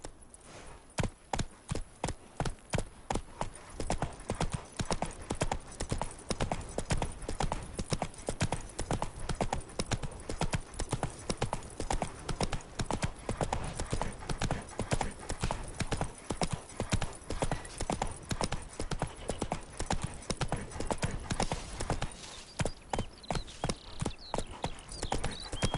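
Hooves clip-clop in a steady, rapid trotting rhythm as a horse travels in The Witcher 3 video game. The sound is close and continuous, and a voice speaks briefly partway through.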